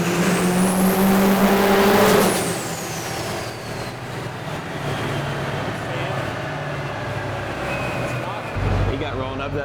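A diesel truck on a dyno at the Diesel Power Challenge 2011, hit with two stages of nitrous, roars loudly with a rising whine for about two seconds before settling into a steady, lower engine drone, with faint voices in the background.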